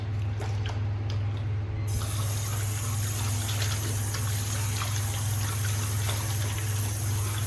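Water splashes and runs steadily as shaving lather is rinsed off a face after a straight razor shave, over a constant low hum, with no talking.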